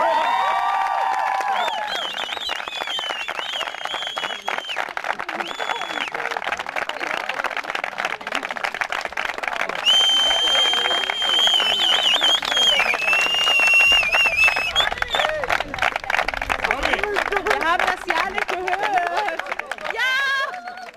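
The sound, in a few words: spectators applauding at a football ground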